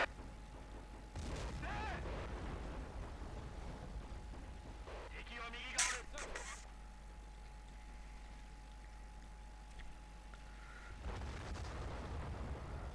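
Men of War 2 battle sounds rumble low and steady, artillery booms and scattered gunfire mixed with a sharp blast midway, fairly distant and muffled, with voices talking over the combat.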